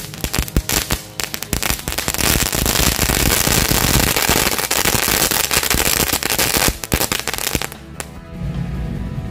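Dense, continuous crackling bursts of small firecrackers and fireworks set off during Ramadan, loud and close, with rapid overlapping pops that thin out near the end.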